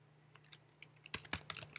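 Typing on a computer keyboard: a quick run of soft key clicks, sparse at first and then denser, faint and close against a low steady hum.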